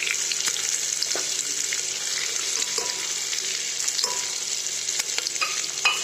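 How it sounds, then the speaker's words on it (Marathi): Onions fry in a pan for khichdi with a steady, close, continuous sizzle and crackle that carries on alone without any talk. "कांदे चांगले भाजून घेतले"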